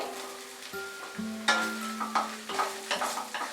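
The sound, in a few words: boiled soya chunks frying with onions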